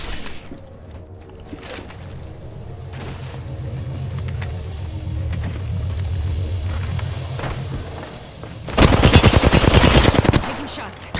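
Rapid video game gunfire under a low engine-like rumble, ending in a loud, sustained automatic burst near the end; sparse talk is faintly present.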